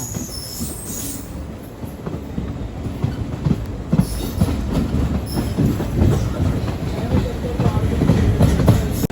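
Train on the Tirupati–Villupuram line pulling into Polur station, with steady rumbling wheels, clacking over joints and squealing metal, loud and close from onboard.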